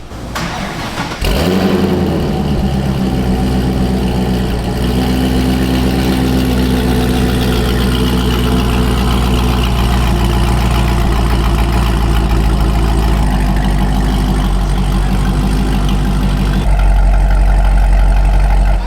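A stock C6 Corvette engine cranks and catches, then settles into a steady, loud, rumbling idle that runs on for many seconds with no talking.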